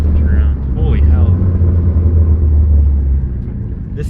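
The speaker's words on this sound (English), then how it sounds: "Oh, this car's fast, boys. She's hauling ass." A Mitsubishi Lancer Evo pulls hard under acceleration, its deep engine rumble loud and continuous from inside the cabin, with brief voices over it early on.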